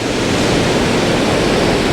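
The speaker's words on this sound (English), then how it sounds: "just waiting for some cool waves." Ocean waves breaking at Cape Disappointment, a loud, dense wash of surf roaring steadily throughout with no pauses, close by and with no voices.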